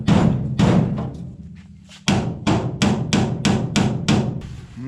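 Repeated hammer blows on a car body panel during a body restoration, a few early strikes then a steady run of about seven loud, sharp metallic whacks at roughly half-second intervals, close by.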